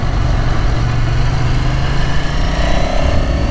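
A 2006 Ducati Paul Smart 1000 motorcycle engine runs at a steady, even drone throughout, loud and close, with no voices.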